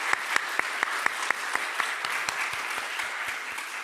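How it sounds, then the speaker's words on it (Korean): A church congregation applauds to welcome guests during Sunday worship, a steady roomful of clapping with a few sharp, distinct claps standing out near the front, sustained at moderate loudness. "잠깐 일어나실 때 박수로 환영하겠습니다."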